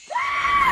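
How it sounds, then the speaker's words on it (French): A woman in a horror film lets out a sudden high scream of fright at a mouse, rising sharply and holding loud and steady. "elle va hurler à cause de la souris"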